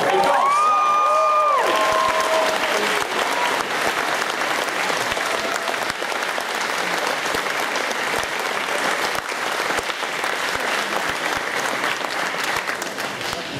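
Attendees at an anime convention closing ceremony applaud and cheer, a loud, sustained wall of clapping with scattered whoops that starts after a short tonal sound at the beginning and keeps going without letting up.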